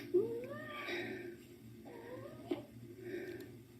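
A pet cat meows several times, with drawn-out rising and falling calls and short yowls. The sound is faint and somewhat distant over a low steady hum, with no talk.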